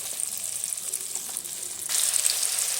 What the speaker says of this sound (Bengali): আলুটা আমি তেলের মধ্যে দিয়ে এইভাবে একটু নেড়ে চেড়ে ভেজে নেব